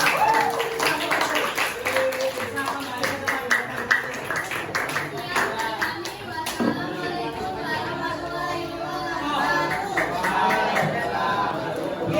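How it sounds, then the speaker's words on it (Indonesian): A junior high school class claps for a student group, with a burst of scattered hand clapping early on that fades into lively chatter and children's voices filling the room. "beri tepuk tangan untuk kelompok 5"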